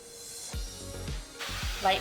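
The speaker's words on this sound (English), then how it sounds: "spray your pan" Avocado oil cooking spray hisses from a can onto a baking pan in a few short bursts, close and moderately loud, with a voice speaking over it.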